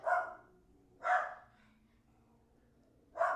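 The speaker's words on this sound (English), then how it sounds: "Oh, there's my dog." A single dog barks three times, with a longer gap before the last bark, heard faint and somewhat distant in a quiet indoor room.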